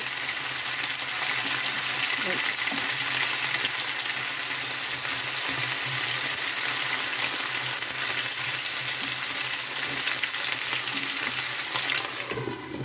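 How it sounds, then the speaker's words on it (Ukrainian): Potatoes fry in lard in a pan. A steady, dense sizzle holds throughout, with occasional scraping stirs and a brief clatter near the end. "Картопля смажена на смальцю, це щось неймовірний смак і аромат."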